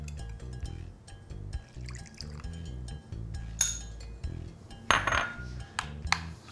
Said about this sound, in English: I'm stirring this up a little bit.